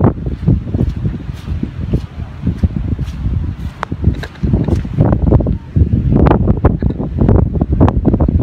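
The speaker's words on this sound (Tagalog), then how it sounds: "Sa lakas ng hangin" Strong wind buffets the microphone on an open drone test field during a DJI Neo extreme wind test, a continuous loud roar with irregular gusts and rumbling bursts throughout.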